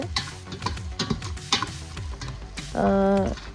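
Sliced large onion frying in a tempering over medium flame for lemon rice, close crackling sizzle with clicking stir strokes, ending in a short sustained tonal sound.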